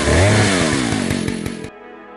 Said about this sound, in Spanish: De repente notas cómo el tipo enciende la motosierra.